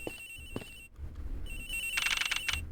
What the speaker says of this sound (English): The ringing's coming from inside of here, sir.